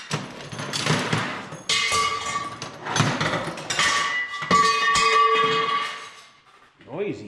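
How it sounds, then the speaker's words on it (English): Loud metallic clanging from hammer strikes on a stuck welded metal frame, ringing tones lingering between heavy hits, close up, with a voice briefly near the end. "So I'm going to get a hammer."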